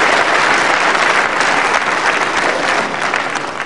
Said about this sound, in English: deserved applause for both